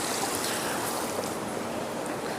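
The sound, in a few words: waterfall with city street noises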